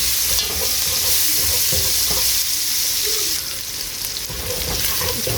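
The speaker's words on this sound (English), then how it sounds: "we're going to fry the onions until they are translucent" Onions frying in a pan, a bright steady sizzle with scraping and stirring sounds throughout, close and loud with no voices.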